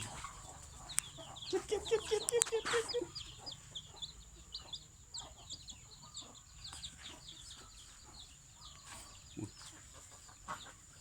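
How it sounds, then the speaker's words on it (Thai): A hen clucks in a quick run of short, soft notes, joined by faint chick peeps and scattered clucking that carries on at a distance. "ลูกไก่สองตัว"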